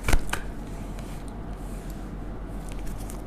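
Tarot cards are shuffled by hand, with a sharp riffle at the start followed by softer, irregular card slides and taps that stay close and fairly quiet.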